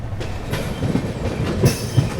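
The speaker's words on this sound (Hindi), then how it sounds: "भाई महाबोधि एक्सप्रेस देख लो भाई, फ्लैट 130 भाई, कॉन्टीन्यूसली 130।" The Mahabodhi Express runs steadily at about 130 km/h, a loud close rumble of rolling wheels with rhythmic clacks over rail joints and a few sharper knocks.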